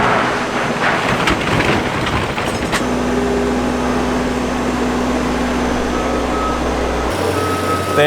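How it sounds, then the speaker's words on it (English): Heavy machinery at an airport terminal demolition site, with skid steers hauling broken concrete, rumbles steadily and loudly, with a constant low engine drone, scraping clatter early on and tonal whines. "They have 2 skid steers running back and forth to grab all of the concrete they just hammered out this morning."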